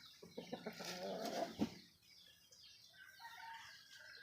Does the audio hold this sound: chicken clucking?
yes